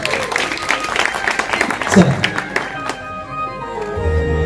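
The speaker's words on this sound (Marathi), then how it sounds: "सगळ्यांनी जोरदार टाळ्या वाजवायच्या" A crowd claps loudly for the Shri Dev Naikvas Mitra Mandal and its young volunteers at a village Paithani game event in Redi, with a voice and background music running through the applause.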